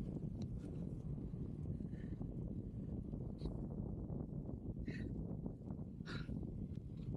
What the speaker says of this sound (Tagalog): Yung hangin ay sumisipol-sipol pa.